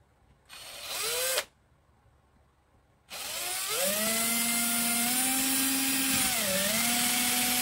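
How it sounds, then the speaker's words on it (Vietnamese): An electric drill boring a hole: a short whir that spins up and stops, a pause, then a long steady high-pitched run with a brief dip in speed near the end, close and loud. "Mình sẽ khoan một lỗ ở đây."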